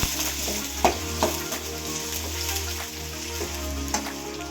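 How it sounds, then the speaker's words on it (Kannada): Beans tossed into a hot pan with chillies and stir-fried, a close, continuous sizzle and crackle broken by scraping stirs and a low steady hum beneath. "ಸ್ವಲ್ಪ ಬೀನೀಸ್ ಹಾಕ್ತಾಯಿದ್ದೀವಿ."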